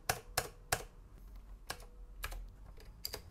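Keys clatter on a Commodore C64X keyboard, with a series of sharp, distinct clicks in an uneven rhythm, close and fairly quiet, with no voices.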